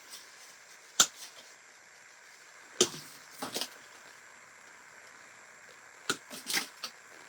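Pruning shears snip pieces of grapevine being trimmed for a floral wreath, sharp isolated clicks and cuts scattered across a quiet background, some coming in quick pairs.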